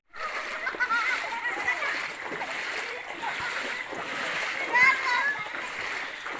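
Continuous watery splashing and sloshing as children play in floodwater covering a village road, with children's voices mixed in, a busy outdoor scene that stays steady throughout.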